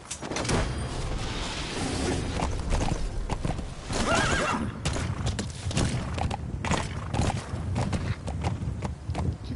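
A horse whinnies over steady clip-clopping hooves in the video game Metal Gear Solid V: The Phantom Pain, with creaks and thumps from the game soundtrack around it.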